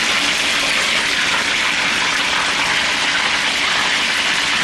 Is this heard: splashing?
yes